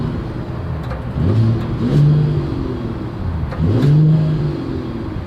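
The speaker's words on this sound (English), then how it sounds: "As always, here is that exhaust clip." A 2023 Mercedes-Benz GLS 450 SUV engine revs twice through a throaty dual exhaust, each rise swelling loud and close, with a steady idle rumble between the bursts.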